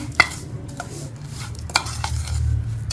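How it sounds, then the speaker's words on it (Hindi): Homemade pakora masala spices are stirred and mixed in a bowl, giving soft scraping swishes with a couple of sharper utensil clinks, close up and steady, with no talking. "अच्छी तरह से हम इसे मिक्स कर लेंगे।"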